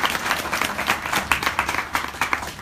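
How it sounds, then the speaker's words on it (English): A small live audience gives a short burst of clapping, a dense patter of hand claps close by that carries on evenly for a few seconds. "Can we all just give her a little clap to give her some love?"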